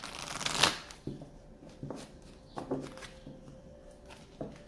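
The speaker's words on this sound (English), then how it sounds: "let me just do 3 more shuffles" Tarot cards are shuffled in a few separate bursts, a quick riffling rush followed by softer taps and thumps as the deck is squared, close up.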